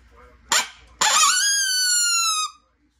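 A sharp high burst followed by a long, wavering, harmonic whistle that slides slightly and cuts off, mimicking a coyote's howl; close and loud.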